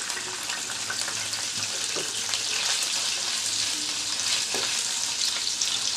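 Small chopped pieces of chicken breast sizzle in oil in a pan, a steady hiss and crackle at moderate volume with light stirring noises.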